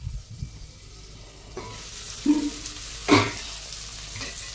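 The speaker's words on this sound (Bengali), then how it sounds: "জিরে ফোড়ন দিয়ে উচ্ছেটা বসিয়েছি" Bitter gourd with a cumin tempering cooking in a pan, a quiet background sizzle broken by a few clattering stirs and knocks, no voices.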